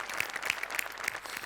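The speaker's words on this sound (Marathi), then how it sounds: "अशा टाळ्या वाजवायच्या" An audience at a Marathi comedy show breaks into a short burst of dense clapping, quiet and somewhat distant.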